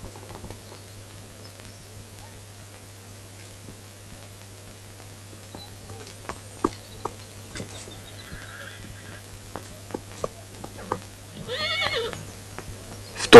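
A white horse gives a loud, drawn-out whinny near the end, after a quiet stretch of scattered hoof clops and soft thuds.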